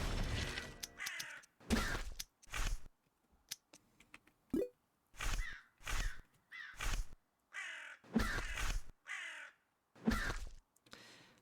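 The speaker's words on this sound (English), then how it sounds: "Crow sound, crow sound, crow sound." Crows caw repeatedly in the video game Abathor, loud, harsh calls in a steady series of separate bursts with short quiet gaps between them.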